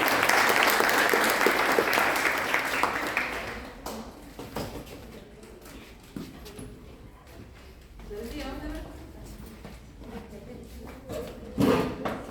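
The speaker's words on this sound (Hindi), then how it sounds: "एक बार जोरदार ताली" Audience applause for a female college student called up during a World AIDS Day lecture, a burst of hearty clapping that fades out after a few seconds, followed by scattered knocks and a hall murmuring.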